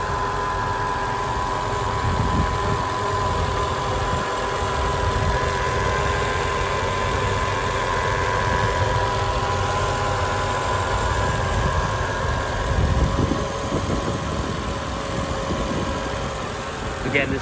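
A 2004 Mercedes-Benz E55 AMG engine idles steadily up close, a constant deep rumble with a faint high whine holding even throughout with no revving.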